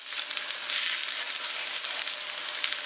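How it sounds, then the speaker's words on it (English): Spice mix frying in a good amount of hot oil while being stirred for a lamb curry, a steady, close, bright sizzle that runs throughout with no talking. "That's going into the oil, and then what we're going to do is add that spice mix that we had."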